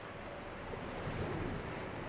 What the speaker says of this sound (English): because of the ocean, it's so bleeding loud